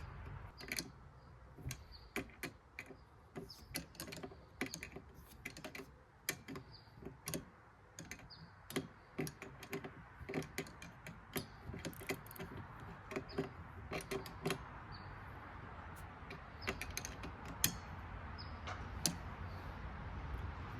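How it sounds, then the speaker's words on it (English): A hand wrench tightens a nut on the wiper motor of a 2003-2009 Dodge Ram, giving faint, sharp metallic clicks and taps at an irregular pace over a low background hum. "So I'm going to put this nut back on, but now I can't get my socket on it, so I'm going to use a wrench."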